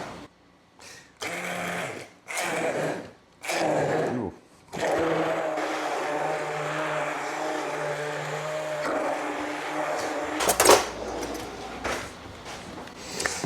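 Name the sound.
immersion blender pureeing strawberries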